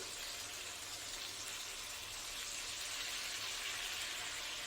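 Hot water poured into a spiced jackfruit kofta curry in a pan makes a steady broadband hiss and trickle, a continuous even pour lasting several seconds with no talk over it.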